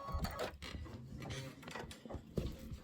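Embroidery machine stitching on a quilted pillow, faint rapid mechanical clicking and whirring with a rhythmic ratcheting pulse, quiet and close.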